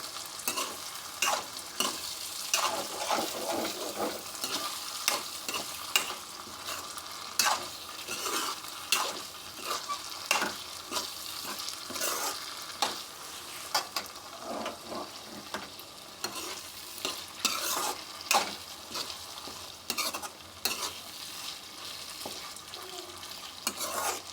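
Potatoes being stirred into an egg curry in a pan: a steady scraping and clacking of the spoon against the pan over a continuous sizzle, close and moderately loud, running for about twenty-four seconds with no talking.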